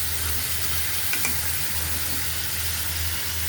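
Onion and tomatoes frying in a pan, giving a steady, dense sizzle that carries on evenly throughout, with a low hum underneath and no talking.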